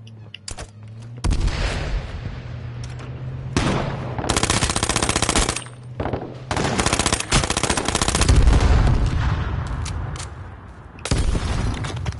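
Machine-gun fire and gunshots from a PS4 shooter while firing at enemies, loud bursts of rapid shots separated by short pauses, with booming low impacts and echo between volleys.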